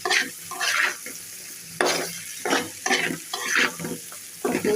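A spatula stirs egg bhaji frying in a pan over medium heat, making rhythmic scraping strokes roughly every half second over a soft sizzle; no one speaks.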